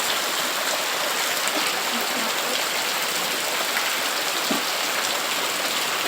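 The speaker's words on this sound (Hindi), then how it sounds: "कितना मूसलाधार बारिश हो रहा है।" Heavy rain pours down in a steady, dense roar of drops, loud and unbroken throughout, with no voices.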